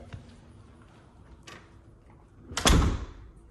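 Front door of a luxury house opening, a short burst of handling clicks followed by a loud broadband whoosh and thud near the end, close by and alone with no talk.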